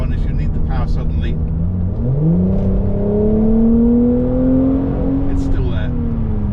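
A Mercedes-Benz SL400 engine surges under kickdown, its steady drone climbing smoothly in pitch as the car accelerates for several seconds, loud and close, with brief voices near the start and end.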